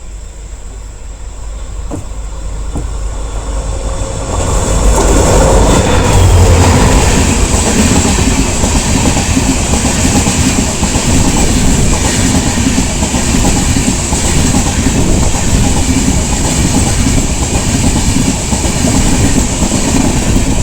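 A passenger train on the Vijayapura to Mangalore route runs along wet monsoon-season rails. The rumble swells after a few seconds into a steady, loud rhythmic clickety-clack of wheels over rail joints, heard close up from the moving train.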